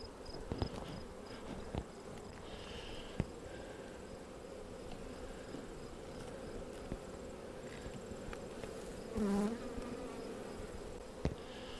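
Honey bees buzz around an open wintering beehive during a frame inspection, a steady low drone of many insects close by, with occasional louder passes and faint handling taps.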